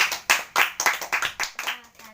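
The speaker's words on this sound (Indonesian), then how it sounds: "Ya, beri tepuk tangannya." Classroom applause for a student returning to her seat after presenting, a dozen or so sharp bursts of clapping in quick, uneven succession, fairly close.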